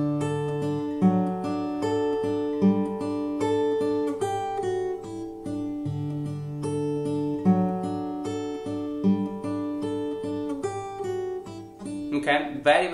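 Acoustic guitar fingerpicking a steady chord pattern with a simple melody on top, close and clear, played alone at a relaxed, even pace.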